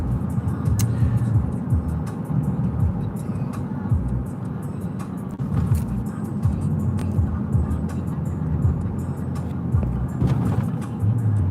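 Steady, close car engine and road rumble from inside a vehicle on the way to a fishing day, droning evenly throughout with no talk.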